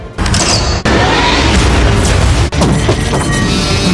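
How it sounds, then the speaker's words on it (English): A battleship firing a high explosive shell in a film scene, heard as loud, dense booming blasts with sharp breaks between them. "Just as Alex is about to fire the last high explosive at the top of the mountain"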